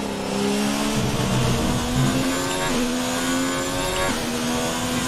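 Race car engine roaring steadily close by at a motor race, a sustained loud mid-pitched drone with rising and falling revs and shifting tones, no voices over it.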